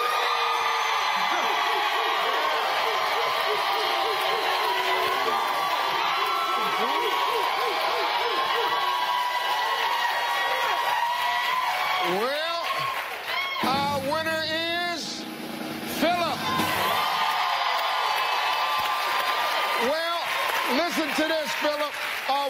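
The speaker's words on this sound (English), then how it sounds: "Clapping and applause only, please." A studio audience on a television game show applauds and whoops for a contestant, a dense, loud, continuous roar of clapping and cheering with shouted voices and crowd chatter mixed in throughout.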